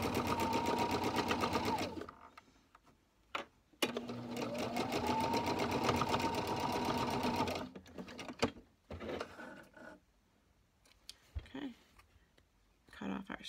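A sewing machine runs a quarter-inch seam on a lined face mask in two steady bursts of rapid stitching, close and loud, each ending abruptly, followed by quiet handling clicks and a brief voice.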